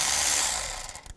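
A ratchet fitted with a 10mm socket works a nut loose on a 2002–2009 Chevrolet Trailblazer, a quick burst of dense clicking up close that slows and trails off within about a second.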